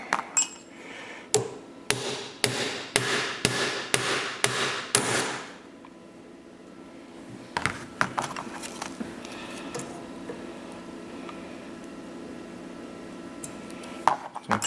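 A hammer taps a punch to drive pins into a Ruger Mini 14 580 Series while fitting a trigger, about seven sharp metallic strikes in a quick run, then a pause before a few scattered lighter taps.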